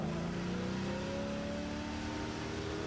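A 6-cylinder Holden engine revs hard and steadily during a burnout elimination at Summernats, its rising tone sustained and loud with crowd noise underneath.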